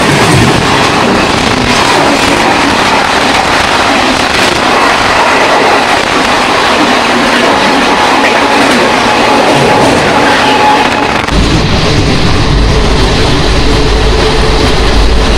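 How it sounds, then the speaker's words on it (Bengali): The 15909 Avadh Assam Express from Dibrugarh to Lalgarh roars past close by, with steady loud rumble and rhythmic clickety-clack of wheels over rail joints throughout, the tone deepening as later coaches go by. "এবার সামনে থেকে আসছে 15909 অবোধ আসাম এক্সপ্রেস, একেবারে ডিব্রুগড় থেকে লালগড়"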